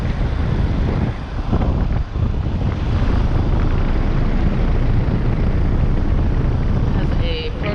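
A 2019 Carrier Comfort 15 heat pump running in heat mode hums with a loud, steady broadband fan and compressor drone, close to the microphone and continuous throughout.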